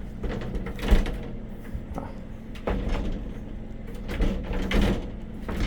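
Tempered glass shower door in a 2018 Jayco Precept RV sliding and knocking in its track, several soft rolling scrapes and bumps at close range in a quiet interior.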